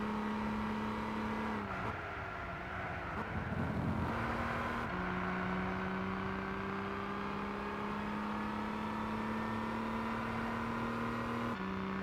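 A 500–600 horsepower Dodge Viper races in Gran Turismo 6, its engine droning steadily at high revs with abrupt pitch drops at gear changes, loud and continuous throughout.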